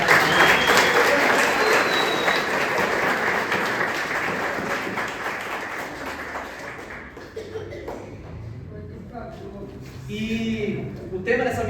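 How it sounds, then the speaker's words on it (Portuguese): A church congregation gives a strong, sustained round of applause, loud dense clapping that gradually fades over several seconds, with voices and faint music emerging as it dies down. "Uma forte salva de palmas aqui."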